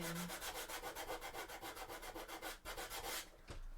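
Hand sanding of a flexible Warhammer 40K Sisters of Battle thigh armour piece, steady rhythmic back-and-forth rasping strokes at close range, about five per second, with no talking.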